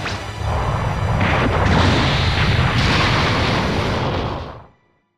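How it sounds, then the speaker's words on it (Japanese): The Earth exploding in the game Dragon Ball Xenoverse 2, one huge, continuous roaring blast that stays loud and dense for several seconds before cutting off abruptly into silence. "もう少しで地球の爆発に巻き込まれるところでした"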